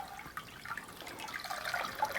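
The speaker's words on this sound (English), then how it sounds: "I'm going to go ahead and just dip my towel in the water." A towel is dipped into hot water and sloshes, a soft steady splashing and trickling that stays close and fairly quiet, with no voices.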